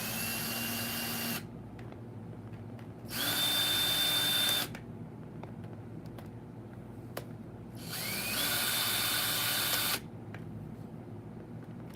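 A small electric screwdriver or drill runs close by in two whirring bursts of a second or two each while screws are taken out of a yard-sale item, with quiet handling noise in the gaps.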